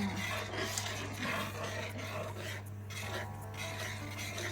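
A spoon stirs 400 grams of sugar into a pot until it dissolves, giving faint, continuous scraping and rubbing against the pot in a soft, uneven rhythm.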